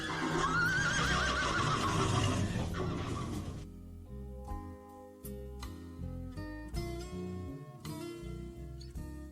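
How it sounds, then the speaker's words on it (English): A horse whinnies loudly for a few seconds, then gives way to sustained tonal music with a steady rhythmic pulse, no voices. "neighing far off on the haunted air"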